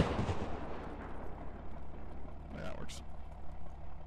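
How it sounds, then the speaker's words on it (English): Gunfire and explosions from the video game Operation: Grit, deep rumbling blasts and scattered shots under ongoing rumble, with a voice talking over the action and a couple of sharp higher bursts late on. "You're still getting shot at."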